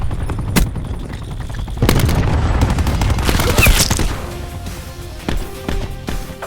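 Cluster grenade explosions in Call of Duty: Black Ops 4, a loud series of booming blasts and crackling detonations that swell and then fade, with a few sharp later pops.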